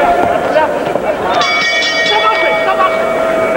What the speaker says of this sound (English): Now there's the bell signaling the end of round 4.